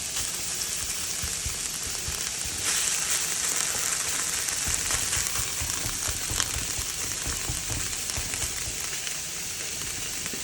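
Pork chorizo frying in a hot pan, giving a dense, steady crackling sizzle like rain on a surface that swells slightly after a few seconds and continues unbroken, close and loud, with no talk.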